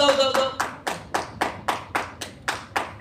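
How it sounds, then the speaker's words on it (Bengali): A group claps hands loudly in a steady unison rhythm, about ten sharp claps in three seconds, close and bright indoors. "তুমি হাততালি দাও জোরে, আরো জোরে দাও।"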